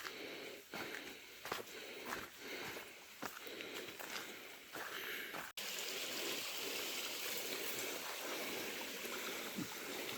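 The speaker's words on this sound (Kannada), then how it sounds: "ಇದು ನೀರು ಹರಿತಿರೋ ಜರಿ" A small hillside stream on Ramadevara Betta in Tumkur, swollen by rain, flows with a steady rushing babble. Rhythmic footsteps crunch over it during the first half before the water carries on alone.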